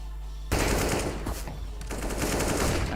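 Counter-Strike gunfire from a professional match between Astralis and FaZe Clan at ESL One, with sudden loud rapid automatic bursts and repeated shots after a quiet moment, with no talk over them.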